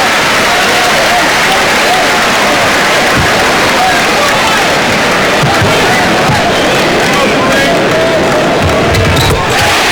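A home crowd at an Illinois Illini basketball game against Seton Hall keeps up loud, continuous cheering and applause, a dense roar of voices with a few sharp thumps under it, heard throughout.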